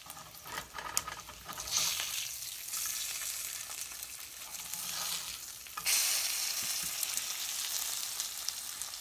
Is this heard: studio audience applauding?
no